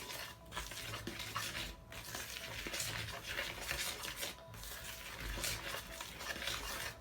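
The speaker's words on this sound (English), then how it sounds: "I'm just going to mix it" Flour, salt, cumin seeds and oil are mixed by hand in a bowl for samosa dough, making a continuous soft scraping and rubbing with faint clinks against the bowl, close and quiet.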